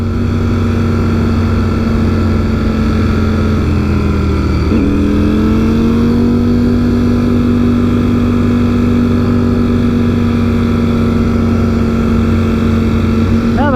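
A Ducati Streetfighter V4S motorcycle ridden in street mode drones steadily and loudly, its engine pitch dipping briefly then rising and holding a smooth sustained tone, with wind noise throughout.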